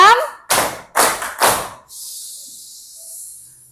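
In a classroom clapping game, a voice speaks and then three loud, evenly spaced claps ring out in a quick rhythm, followed by a soft hiss of room noise.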